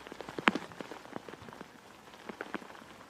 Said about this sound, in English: the rain is coming down hard, as you can see